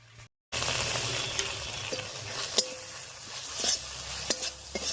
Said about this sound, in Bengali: লাল লঙ্কার গুঁড়া দিয়ে একটু মিশিয়ে নিলাম এবারে মশলা বাটা জল দিয়ে ঢাকা দিয়ে দিয়ে বেশ কিছুক্ষণ কষিয়ে নেব